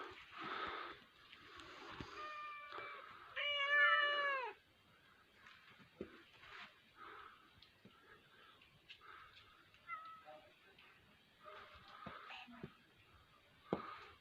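Cats in a snowy village meow a few times, with a clear, fairly close meow around the middle. Quieter rustling and footsteps are heard between calls, and one voice speaks softly.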